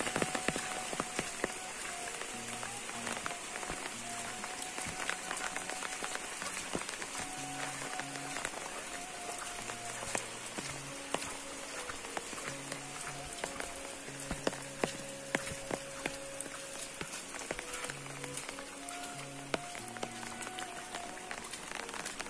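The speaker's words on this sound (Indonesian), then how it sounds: "Di kampung sedang hujan, teman-teman." Rain falls steadily on surfaces in a village, a dense continuous patter with scattered sharper drips, while faint low voices murmur in the background throughout.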